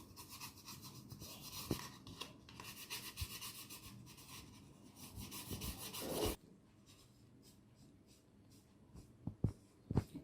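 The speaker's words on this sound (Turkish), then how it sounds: "Şöyle boyuyorum çocuklar." A pencil or crayon colours orange fur on a squirrel drawing, making steady, close scratchy rubbing strokes for about six seconds. A few faint taps follow, and no one speaks.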